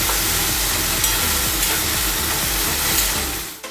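A paste of ground bean seeds, ginger, garlic and green chilli hits a hot pan, giving a loud, steady sizzle and hiss with faint scraping from stirring, fading out at the end.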